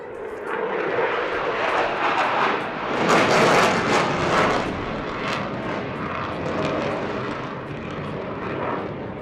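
An RAF Eurofighter Typhoon jet flying a display at the 2022 Eastbourne Airshow, a loud, sustained roaring jet engine that swells and rushes past before easing into a continuing distant rumble, with no talk over it.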